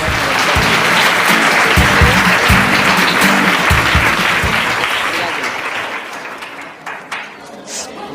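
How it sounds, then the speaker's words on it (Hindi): Loud audience applause on a Hindi quiz-show stage, a dense, sustained burst of clapping that swells and then gradually tapers off toward the end. "जोरदार तालियां।"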